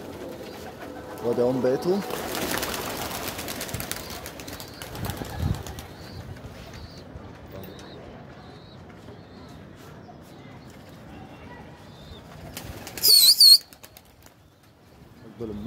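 Pigeons nearby give bursts of loud wing flapping and low coos, while someone talks intermittently throughout. A sharp flurry of flapping rises near the end.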